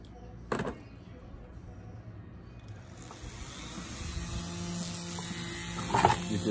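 A Dremel rotary tool is used while repairing a Stihl MS661C chainsaw. A sharp knock comes first, then the tool's high whine builds from about halfway and runs steadily close by, with a few clunks near the end.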